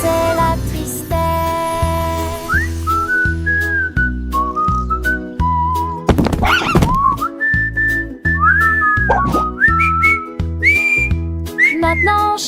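Melodic whistling in a French children's song about a cat that learned to whistle, clear sliding whistled phrases carried over a bouncy, steady musical backing with bass and percussion, no voices.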